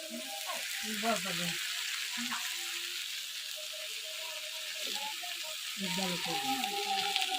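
Katla fish head frying in a pan with vegetable stalks, a continuous sizzle with occasional stirring under intermittent nearby talk.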